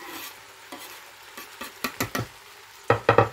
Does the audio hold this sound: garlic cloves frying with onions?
yes